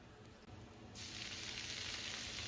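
Beef hitting a hot pan for a stir fry with garlic and ginger, a steady close sizzle that jumps louder and brighter about a second in and then holds as an even hiss.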